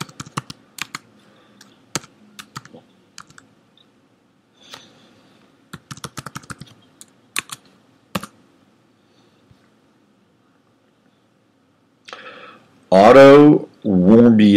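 Keys clatter on a computer keyboard in scattered quick bursts of clicks, then a pause before a voice starts talking near the end.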